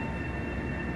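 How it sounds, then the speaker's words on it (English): Metro-North Hudson Line train at Croton-Harmon station at night, a steady, dense rumble and hum of rolling rail equipment close by, continuous for the full second with no talking. "There's two trains in this shot."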